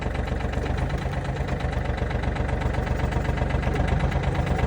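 A heavy diesel tractor engine idles close by at a tractor yard with a steady, rhythmic low chugging and knocking, unbroken by voices.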